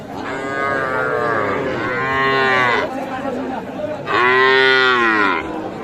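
Several loud, drawn-out moos from young bull and heifer calves nearby at a cattle market, two long calls separated by a short break, with no talk over them.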